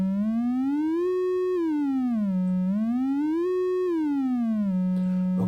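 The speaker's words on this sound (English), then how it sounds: "if I turn this knob, the frequency or the note is going to change." An analog synthesizer's voltage-controlled oscillator gives a steady, buzzy, harmonic-rich tone that glides up and down in pitch as the frequency knob turns, rising and falling twice in smooth sweeps with brief holds at the top and bottom, alone and clear.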